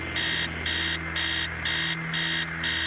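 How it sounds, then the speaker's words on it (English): An alarm clock rings in the video game Stories Untold, giving loud, regular bursts of buzzing beeps about twice a second over a low steady hum. "you gotta go upstairs and turn off the alarm if you want it turned off"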